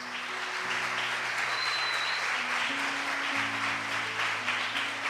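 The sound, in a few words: church audience applauding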